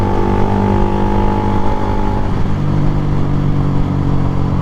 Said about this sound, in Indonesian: Coba motor apa ya itu ya, Harley nggak sih?